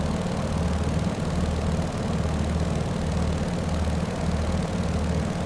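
Steady radial drone of the big Pratt & Whitney engine on a Beechcraft 17 Staggerwing in Microsoft Flight Simulator, a continuous low propeller-engine rumble heard from the cockpit, even and unbroken throughout with no talking.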